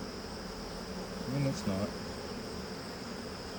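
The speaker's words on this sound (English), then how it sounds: "that looks like a lot of bees" Honeybees on a beehive frame give a soft, continuous buzzing hum that holds steady throughout, with a brief spoken phrase near the middle.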